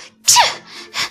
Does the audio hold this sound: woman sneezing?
yes